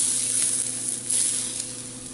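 Hot oil sprinkled over simmering Afghan green rice sets off a loud, close hiss that rises sharply midway and then holds steady, with no talking.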